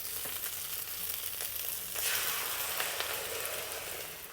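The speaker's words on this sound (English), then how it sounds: "Add in a little bit more oil. That's for frying the eggs." Steady crackling sizzle of six beaten eggs frying in hot oil for garlic shrimp fried rice, continuous and close, growing slightly louder and brighter partway through.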